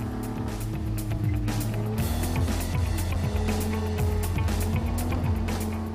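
A Ferrari GTE sports car driven hard on a racetrack: a loud, steady engine roar with rising and falling pitch sweeps through gear changes and throttle shifts, with no talking.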